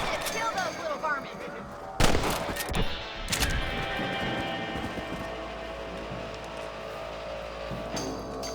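Rifle shots at varmints in the Red Dead video game, a couple of sharp cracks near the start followed by a lingering outdoor ambience with faint background music.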